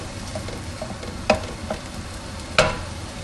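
Partly frozen ground meat for sloppy joes sizzles steadily in a pan while a utensil chops and stirs it, with two sharp scraping clacks standing out above the constant frying hiss.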